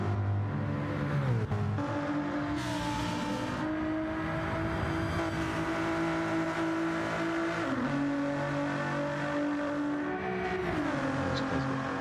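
Gen-X Gr.3 race cars at Bathurst, engines droning loud and continuous with rising and falling revs as cars accelerate and shift, no talk over the steady roar.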